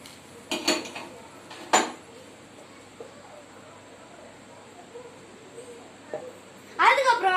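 White chutney stirred in a bowl, with a few sharp utensil clinks against the bowl early on and a louder scraping burst at the end, separated by quiet stretches.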